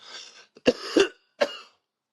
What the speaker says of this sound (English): Pardon me for coughing so much.